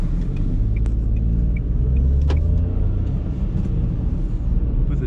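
A 2023 Dacia Sandero with a 1.0 TCe turbo petrol engine accelerates in first gear, heard from inside as a loud low rumble of engine and road noise with a few faint clicks.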